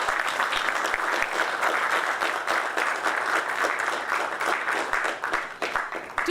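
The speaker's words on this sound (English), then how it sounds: "Please give a round of applause for them" Sustained applause from a crowd at a stock exchange listing ceremony, steady dense clapping that carries on throughout without pause.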